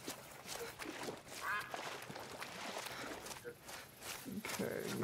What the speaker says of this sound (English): A bunch of ducks up there.